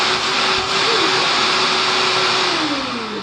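A shop vacuum runs with strong suction, a loud, steady roar with a droning hum whose pitch dips slightly near the end.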